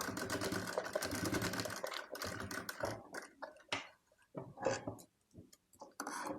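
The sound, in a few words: sewing machine stitching fabric for a baby top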